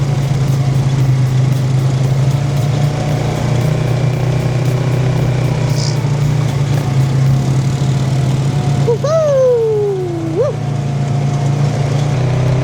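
An ATV engine drones steadily and loudly through an off-road ride in the Pocono Mountains, with a brief rising and falling whine near the end.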